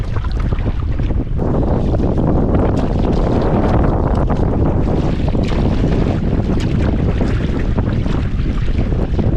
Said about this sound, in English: the wind's just picked up from the west and I cannot cross the main part of the lake